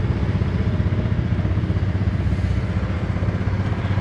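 Yamaha Grizzly ATV engine warming up at a campground beside cabins during a spring off-road jamboree, a steady close idle with even mechanical clatter running throughout.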